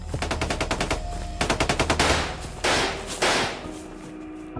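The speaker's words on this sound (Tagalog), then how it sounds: "Dahil sa sunod-sunod na mga putok ng baril ay nabulabog ang baryo at naglabasan ng mga tao." Rapid bursts of gunfire ring out as a sound effect: a fast rattling volley first, then a second quick string of shots, followed by two heavier single blasts with echoing tails, loud and close.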